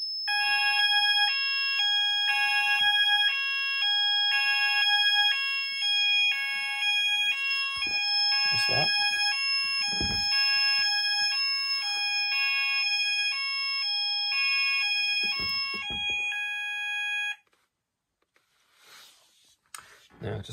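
A Morley IAS demo panel fire alarm sounds in a steady repeating electronic tone pattern, loud and continuous, then stops abruptly; a person talks faintly underneath.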